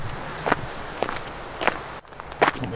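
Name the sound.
footsteps in loud shoes while hiking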